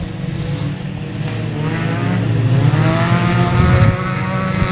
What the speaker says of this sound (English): The Newberry's looking top side of Bajan, hoping to take away the number 2 spot as they race down the back straightaway.